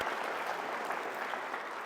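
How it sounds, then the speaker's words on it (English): A live audience claps warmly for a volunteer named Walker, a dense, even burst of applause that carries steadily from start to finish without a break. "How about another big round of applause for Walker?"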